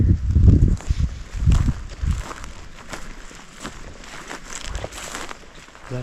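Footsteps crunch through woods and leaf litter during a Colorado bear hunt, a steady walking rhythm that starts heavy and close, then softens to lighter rustling steps over faint background air.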